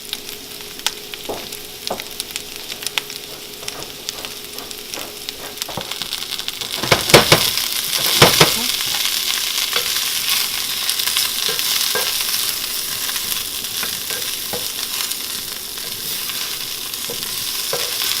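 Cauliflower sizzling as it fries in a pan, a steady hiss that swells louder midway as a few quick stirring scrapes and clatters cut through, close up with no voices.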